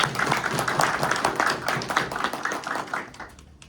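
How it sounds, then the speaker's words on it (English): An audience at an AI panel discussion applauds the panelists with dense, sustained clapping from a full room that fades out toward the end. "let's give a round of applause to our panelists"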